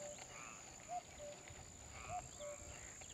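Frogs croak beside a pond deep in a forest, a few short faint croaks spaced apart over a steady high insect drone and quiet outdoor hiss.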